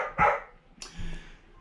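A dog barks twice nearby indoors, two sharp loud woofs about three-quarters of a second apart, with no talk over them.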